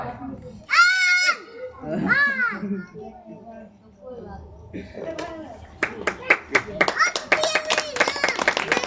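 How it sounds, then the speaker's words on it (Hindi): Audience clapping at a Saraswati Puja devotional talk, starting only after a voice and other high-pitched calls, then building into scattered, fairly close hand claps that thicken toward the end. "इसलिए ताली आप बजा सकते हैं।"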